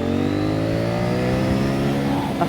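An 800NK motorcycle engine revs hard and climbs steadily in pitch as it accelerates into a wheelie, loud and close with no voices.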